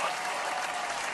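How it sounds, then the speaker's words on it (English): A short, steady wash of crowd applause, dense and even throughout, with no voices over it. "Round of applause."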